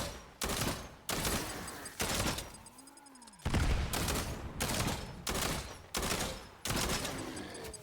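Primal pistol and shotgun fire in Fortnite Save the World, loud sharp blasts in a steady rhythm of about one shot per second, each with a short ringing tail, plus one deeper booming shot midway, with no talking.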